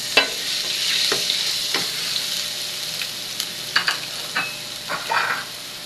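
Garlic sautés in oil in a pan with a soft continuous sizzle, close by, punctuated by several sharp scrapes and taps of a utensil stirring it.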